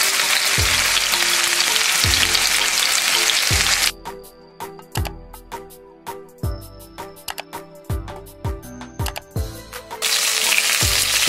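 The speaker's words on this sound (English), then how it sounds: "You need to hear that sizzling." Chicken pieces fry loudly in hot avocado oil with a steady bright sizzle, broken partway through by a stretch of sharper crackles and pops before the full sizzle returns.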